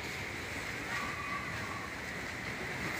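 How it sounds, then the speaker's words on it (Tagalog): Strong sea waves sloshing and splashing against a seawall, a dense continuous wash of water noise heard close, steady and loud without distinct breaks. "Ayan, malalakas ang alon."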